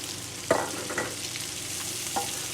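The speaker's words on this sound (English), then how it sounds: "So I'm just going to continue cooking until the rest of the bacon has browned up and the onions begin to turn translucent." Bacon and two large chopped white onions frying together in a pan, a steady sizzle with a few sharp spoon scrapes and knocks against the pan.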